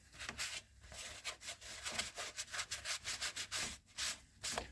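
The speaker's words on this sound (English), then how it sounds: "Do a bit of a wipe down." A cloth rubs repeatedly over a sanded plastic hockey mask, making quick rhythmic swishing strokes in uneven bursts, close and fairly soft, with no talking.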